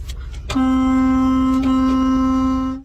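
A car horn at the Ottawa convoy protests blares in one loud, steady, unbroken honk that holds for more than two seconds after a short burst of street noise.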